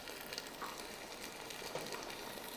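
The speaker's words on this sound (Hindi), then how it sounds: "अब हम इसमें डालेंगे बाकी के अज्जा और साथ साथ में इसको भूनते जा रहे हैं" Onions and spices fry and get stirred in a pan for beef chana pulao, making a faint, even sizzle with light stirring scrapes and no speech.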